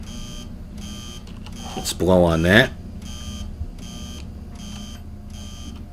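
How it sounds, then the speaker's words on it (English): The TIN CAN device gives a buzzer and master alarm warning, a regular pulsing beep repeating roughly every half second throughout, with a person speaking briefly over it and blowing into it. "Bad buzzer, bad master alarm,"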